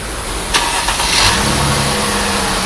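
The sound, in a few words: 2006 Mercedes C230 car engine starting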